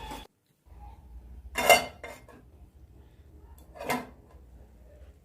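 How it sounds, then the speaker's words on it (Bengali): A metal lid clinks onto a pot of khesari pods with water and salt, set to boil; two short, distinct clanks of cookware stand out over a quiet kitchen background, with no talking. "এখন আমি ঢাকনা দিয়ে 5 মিনিট সেদ্ধ করে নেব।"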